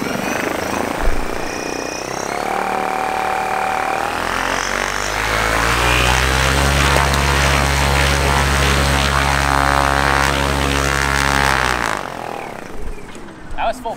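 A homemade electric airplane motor spins its propeller up to full power, a loud, steady droning whine that rises and holds for several seconds before cutting off, with a voice talking briefly underneath.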